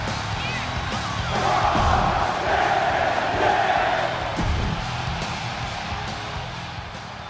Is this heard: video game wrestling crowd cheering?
yes